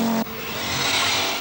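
Rally car racing along twisting narrow roads on the Isle of Man in 1982, a loud close engine roar with a sharp tone change early on, then a sustained rasping drive with tyre noise.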